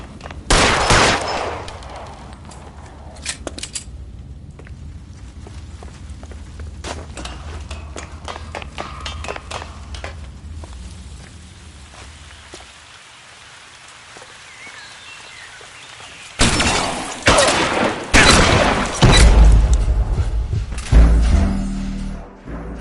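Gunfire in the L.A. Noire video game comes as rapid bursts and volleys of shots, loud at the start, then lighter scattered fire, then heavy fusillades again toward the end, with brief speech.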